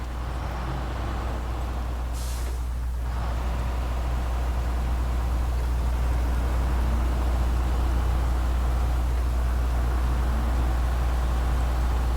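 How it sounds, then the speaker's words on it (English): Distant tractor trailers downshifting outside, a steady low drone with a brief hiss partway through, continuous and fairly muffled. "you can probably hear some tractor trailers outside that are shifting down"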